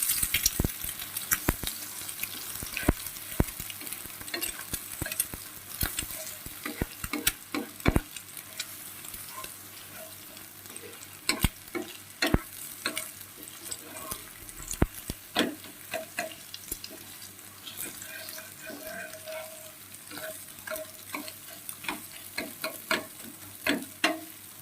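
An egg fries plainly in a pan with no salt or turmeric, a soft steady sizzle broken by frequent sharp scrapes and taps of a spatula against the pan throughout, close and fairly quiet.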